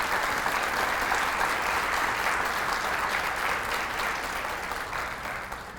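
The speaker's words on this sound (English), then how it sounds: "Would you please give them a round of applause?" Steady crowd applause for staff at a kindergarten graduation, dense continuous clapping from a large audience that holds level before tapering slightly at the close.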